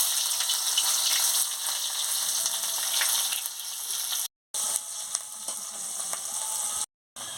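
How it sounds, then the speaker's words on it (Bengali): Onions fry in hot mustard oil in a heated kadai, producing a steady, close, bright sizzling hiss with two short complete dropouts. "কড়া গরম হয়ে গেছে, পেঁয়াজ দিয়ে দেবো।"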